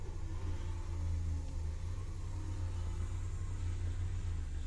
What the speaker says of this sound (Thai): มาแล้วครับผมรถตัก WA 3 8 0 Z นะครับตัวนี้ นะครับคอมมิสุนะ